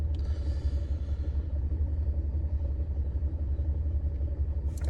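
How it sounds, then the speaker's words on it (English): Car engine idling with cylinder 1 misfiring after coil pack and spark plug swaps, a steady low rumble with an uneven pulse running continuously and close, no talk over it. "we are back in action, and look at that, cylinder 1 still misfiring"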